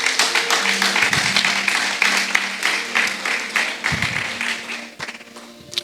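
Sustained rhythmic clapping and applause from a church congregation acclaiming the Lord, loud and dense at first, then thinning out, with faint voices and a held tone beneath.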